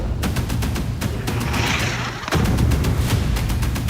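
Missile strikes in Gaza, heard as a rapid series of sharp blasts and booming detonations, one heavy impact near the middle followed by continued loud, dense crackling bursts.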